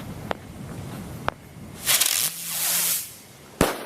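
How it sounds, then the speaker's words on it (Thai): New Year firecrackers and fireworks: sharp bangs pop at intervals, then a rising hiss and a louder burst overhead, followed by one last crisp crack; no talking. "โอ้ไประเบิดข้างบนนะ"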